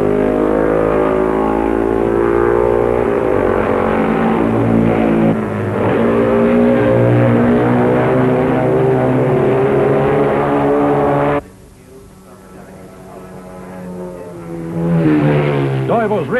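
BMW racing sidecar outfits at the 1961 Isle of Man TT roar past with loud, rising and falling engine notes, then cut off sharply before another machine approaches, all under commentary.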